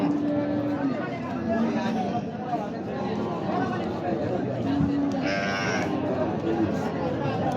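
A dairy cow that gives seven litres of milk, at the Amirganj cattle market in Itna, Kishoreganj, lows among livestock while a crowd chatters and people talk nearby.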